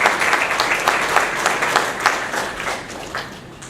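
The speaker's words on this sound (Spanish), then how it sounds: "Un aplauso para Daniel." Lively audience applause for Daniel after a business talk on cost strategies, loud and close, with individual claps standing out before it gradually tapers.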